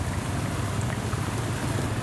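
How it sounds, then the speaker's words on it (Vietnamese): Heavy rain pours with gusty wind in Ho Chi Minh City during flooding from the remnants of storm number 9, a dense, unbroken roar with no voices. "mưa to và gió giật trên diện rộng"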